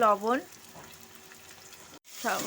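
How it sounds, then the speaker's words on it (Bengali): Chopped onions and slit green chillies with salt fry in a wok of oil and ghee, giving a soft steady sizzle between brief bursts of nearby voice at the start and end. "তেল আর ঘিয়ের সাথে পেঁয়াজটাকে একটু ভাজা ভাজা করে নেব।"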